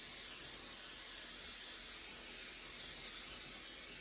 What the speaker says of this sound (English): We're going to take a little olive oil spray.